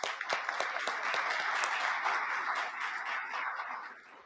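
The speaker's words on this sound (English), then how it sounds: "Let's give them a round of applause." Audience applause for event sponsors at a ceremony, a steady wash of many hands clapping at moderate volume, sustained for several seconds without talk.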